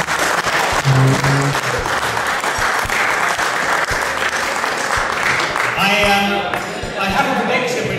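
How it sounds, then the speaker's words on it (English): An audience at a magic show gives a big round of sustained clapping that stays loud and dense throughout, with someone speaking over it. "Everyone can give Andrew a big round of applause."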